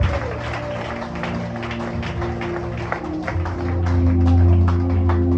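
A congregation at a church service applauds and acclaims, steady dense clapping from many hands over organ-like sustained tones, swelling louder toward the end with crowd voices mixed in.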